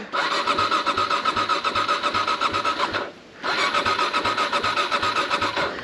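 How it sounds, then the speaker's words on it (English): A Yamaha WR250R motorcycle engine cranks and runs with a steady rapid pulsing beat, loud and close, briefly dropping out around the middle before catching again and continuing. "So let me turn my motorcycle on."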